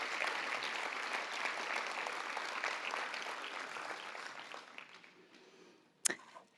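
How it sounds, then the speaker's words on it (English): Audience applause at a youth health awards ceremony, a sustained wash of clapping that slowly thins and fades over about five seconds, followed by a sharp bump near the end. "give all of these wonderful people a round of applause"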